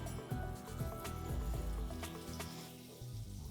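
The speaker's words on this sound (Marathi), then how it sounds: "फोडणी मस्त तडतडली आहे." Mustard seeds, asafoetida and curry leaves tempering in a spoonful of hot oil in a small pan, giving a steady close sizzle with scattered sharp crackles and pops throughout, no talking.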